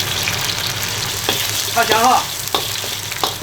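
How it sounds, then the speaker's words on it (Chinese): Garlic, ginger, dried chili and Sichuan pepper fry in hot oil in a wok with a steady sizzle, punctuated by a few sharp stirring scrapes, while a voice briefly speaks over the cooking. "先把大蒜下锅炸一下"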